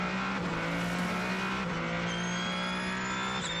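GT race cars, a Lexus and a Porsche, howl through the Imola chicane during the 6 Hours of Imola endurance race, engines droning loud and close with pitch shifts as they brake and accelerate.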